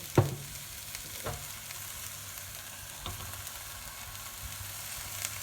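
Eggs dropped into a pan over high heat for Cantonese fried rice, lightly salted: a sharp clatter at the start, then a steady low sizzle with occasional knocks of utensils, quiet and close.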